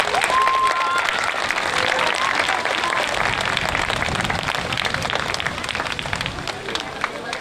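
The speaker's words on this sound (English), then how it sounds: "let's give everyone a round of applause" Sustained applause from a school audience at a morning character kickoff event, dense and steady for the whole stretch with faint crowd murmur underneath.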